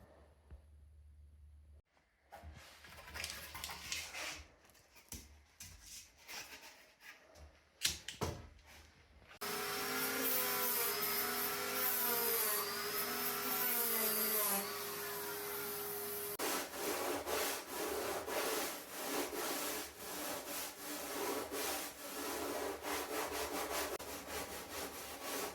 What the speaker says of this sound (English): Jigsaw blades, especially longer ones, can wander, causing angled cuts.